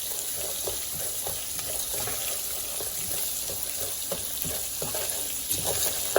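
Onion and garlic fry in a pot while being stirred for soup, a steady close sizzle with soft scraping stir strokes throughout, no talking.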